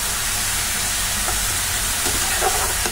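Mashed onion and tomato sautéing in a pan over medium flame, a steady loud sizzle and hiss throughout with faint scraping stirs near the end, no speech.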